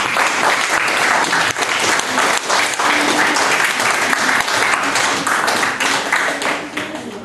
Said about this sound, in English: we will give the applause to the presenter